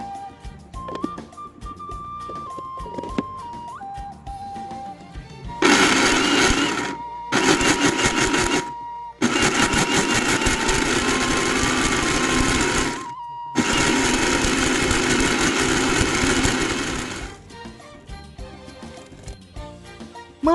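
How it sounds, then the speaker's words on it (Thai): A blender whirs loudly in several bursts with brief pauses between, the motor's pitch shifting as fruit and a little water churn. "ก็จะนำไปเข้าเครื่องปั่นนะคะ เติมน้ำเล็กน้อยเพื่อให้ปั่นได้สะดวกนะคะ"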